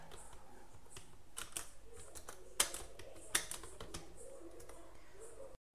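Fingers type on a computer keyboard, entering text into a search box, with quick irregular key clicks and two sharper taps standing out against a faint background hiss.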